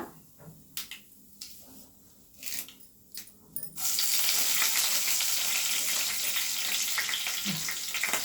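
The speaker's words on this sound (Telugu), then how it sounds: "ఇప్పుడు చూడండి ఎర్రగడ్డ వేస్తున్నాను. ఇది వేగే లోపల" Red onion hits hot oil in a pan for a village-style brinjal curry, bursting into a loud, steady sizzle after a few seconds of quieter clatter and handling sounds.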